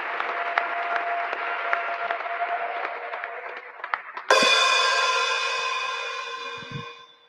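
A church congregation applauds and cheers in praise, sustained clapping building to a loud burst of ringing cheers and whistles that slowly fades.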